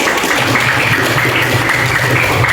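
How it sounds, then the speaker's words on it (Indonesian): A classroom of students claps together in a brief, steady burst of applause during a lesson. "Oke, tepuk tangan buat kalian."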